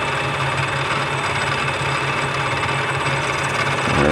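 A DIY lathe turns steadily at about 1,000 RPM while an outboard spider is machined, giving a constant loud droning hum with vibration that swells slightly at the end, alone with no talk.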